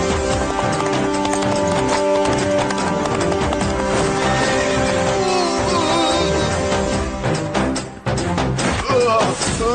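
A cartoon horse gallops through a crowded market, loud steady clip-clop hoofbeats over busy music and sound effects, with a neigh-like cry and a few brief impacts.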